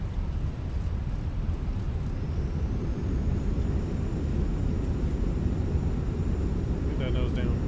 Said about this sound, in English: Reversers are out.